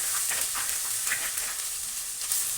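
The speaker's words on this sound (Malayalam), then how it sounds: "ഒരു സ്പൂൺ ഇഞ്ചി വെളുത്തുള്ളി പേസ്റ്റ് ഇട്ട് കൊടുക്കുക." Ginger garlic paste sizzles and fries in a pan for a Kerala-style chicken curry, a steady hissing crackle with soft scraping pulses as it is stirred, close and continuous without talk.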